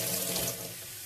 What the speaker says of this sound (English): I'm just going to rinse off my hands.